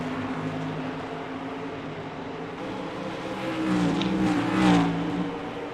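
Race car engines in a sim racing video game whine steadily at moderate volume, with one car's pitch sweeping and swelling as it passes near the end.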